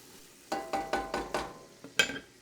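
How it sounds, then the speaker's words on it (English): Onions being sautéed in a pan for a spicy shrimp dish, a series of short scraping stirs over a faint sizzle, close and quiet, with no talking. "going with my onions. Just gonna saute these real quick."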